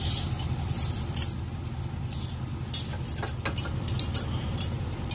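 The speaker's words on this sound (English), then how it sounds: "so now we got our safety chains connected" Metal trailer safety chains being hooked to a truck for a Hensley Arrow hitch give a close, steady jangle of rattling links with occasional sharper clinks, over faint background hum.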